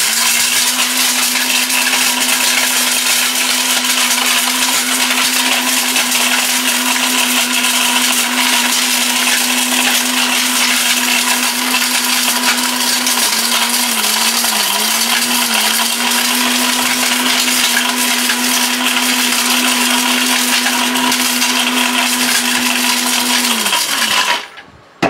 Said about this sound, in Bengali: এমন শক্তিশালী ব্লেন্ডার এটা